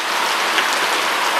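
Rain falls hard on a shed, a loud, dense, continuous hiss of drops with no other sounds over it.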